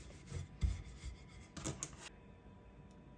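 Yeast-free puff pastry dough rolled out with a rolling pin, giving soft, faint rubbing and scraping strokes in a few short passes.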